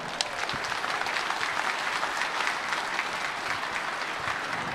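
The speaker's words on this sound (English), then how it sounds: "So please give that car a big round of applause." A crowd at a Scottsdale collector car auction applauds a 1932 Ford Roadster hot rod, a broad, steady roar of many hands clapping that fills the whole stretch without a break.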